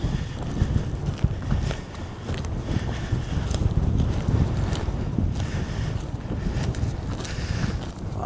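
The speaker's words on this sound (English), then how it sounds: "Winds are gusting at about 40 miles an hour today" Strong gusting wind of about 40 miles an hour buffets an outdoor microphone beside farm fields at an old cemetery, a continuous loud roar with rumbling low-end gusts throughout.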